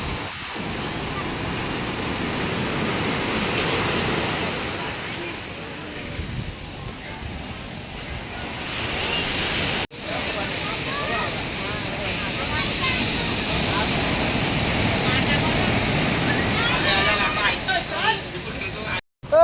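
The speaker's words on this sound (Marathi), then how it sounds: "तुम्ही समुद्राचा आवाज घेऊ शकता इकडे" Sea waves wash steadily onto a beach near Alibag, a loud continuous roar with rising and falling surges, while people talk nearby over the surf.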